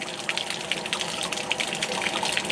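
Water gushes steadily out of a leaking RV water heater tank, a continuous close splashing rush with no pauses.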